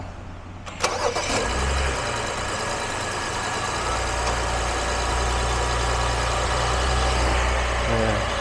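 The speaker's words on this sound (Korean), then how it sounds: "시동 한번 걸어보겠습니다" BMW X5 E70 petrol engine cranking and starting, nearby and loud, with a sharp catch followed by a steady idle drone that carries on to the end.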